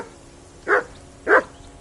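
A dog in the medieval video game Kingdom Come: Deliverance 2 gives two separate, fairly loud barks, spaced about half a second apart, with no talking over them.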